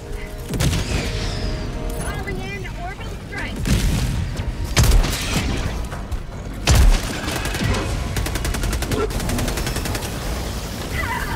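Explosions and heavy gunfire in Helldivers 2 combat, with several loud booming blasts landing amid near-constant rattling fire and clatter, while voices talk over the chaos.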